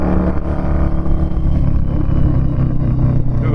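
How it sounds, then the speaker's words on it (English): A 2006 Harley-Davidson V-Rod motorcycle engine rumbles steadily and loudly as the bike decelerates, a deep continuous throaty drone with no voices. "Ooh, a nice little rumble"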